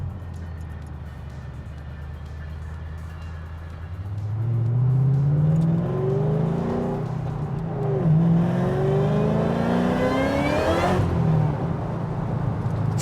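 A 2007 Ford Mustang Shelby GT500 convertible accelerating hard, its engine climbing through rising revs with a shift midway, loud and close, then the pitch dropping as it backs off.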